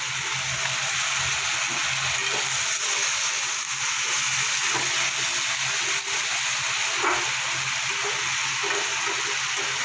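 Spice paste (masala) for a spicy cauliflower dish stirred and fried in a pan, a continuous loud close sizzle with faint scraping stir sounds throughout.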